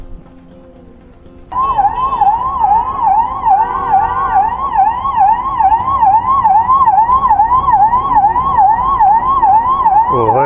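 An ambulance siren wails in a steady, repeating up-and-down pattern, loud and close, starting suddenly after a couple of seconds of low traffic rumble, while stuck in a traffic jam on a hill road near Dehradun.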